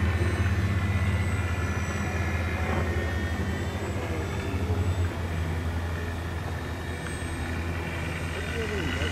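Arrows RC 1100 mm F8F Bearcat model airplane on a trim flight, a continuous propeller and motor drone that stays steady throughout, with wind noise and people talking over it.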